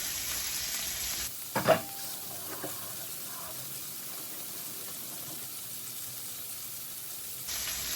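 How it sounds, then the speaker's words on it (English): Meatballs and onions sautéing in a pan for spaghetti and meatballs, a steady soft sizzle that runs throughout at low volume, with a couple of brief knocks near the start and no talking. "here I'm going to add in the rest of our meatballs and our onions too, so they can saute"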